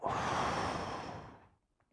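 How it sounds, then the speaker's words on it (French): A single slow, deliberate deep breath, a long airy exhale that fades out after about a second and a half, close and alone. "Une respiration."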